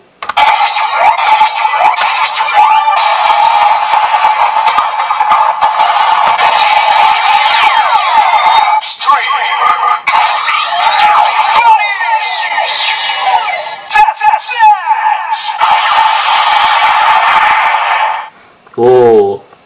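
A DX Zeztz Driver Kamen Rider toy belt blares loud electronic finisher effects, with bursts of synthesized tones, sweeping noises and chimes layered together, briefly cutting out near the end.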